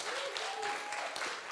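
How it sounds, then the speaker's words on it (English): A live studio audience cheers and applauds at a games show, a dense continuous wash of clapping and whooping that holds steady throughout. "can we have a cheer, please?"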